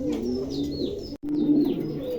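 A pair of pigeons coo close by in low, throaty, rolling calls, with faint chirps from smaller birds higher up and a brief silent gap midway.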